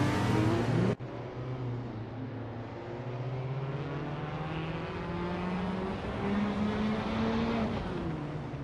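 A 2019 BMW M8 GT race car in a racing video game, its engine droning and rising in pitch through the gears after a sharp cut near the start, steady and moderately loud.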